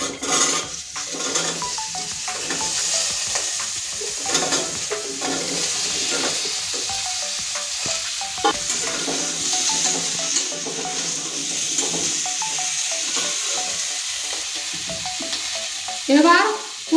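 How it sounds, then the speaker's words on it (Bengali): Pieces of papaya and potato dropped into hot oil fry with a loud, continuous sizzle, with stirring scrapes and occasional utensil clinks over the steady crackle. "এই তেলের ভিতরে দিয়ে দিচ্ছি।"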